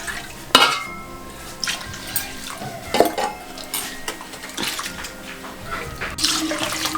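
Dishes clatter and water splashes as soaked lentils are rinsed in a metal vessel, with sharp clinks near the start and end and steady swishing between.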